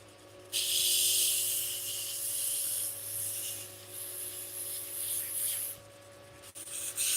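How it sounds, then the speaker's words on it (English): A maple and cherry wood ring is sanded on a lathe, producing a loud, steady, close hissing rub that runs for about six seconds over the low motor hum, then cuts off. "So I'm going to give this a sand."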